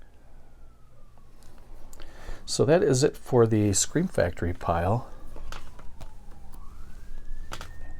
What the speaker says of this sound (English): And you can hear a siren in the background.